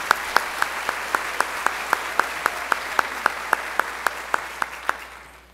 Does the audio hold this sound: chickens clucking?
no